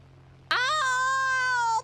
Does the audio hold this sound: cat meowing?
yes